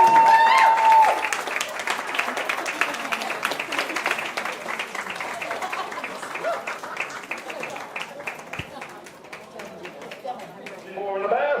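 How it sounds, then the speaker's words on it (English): A crowd at the New York Sheep and Wool Festival applauds the Make It With Wool contest participants. The clapping is brisk and scattered, with voices mixed in, and it tapers off gradually toward the end. "Let's have an applause for all of our participants."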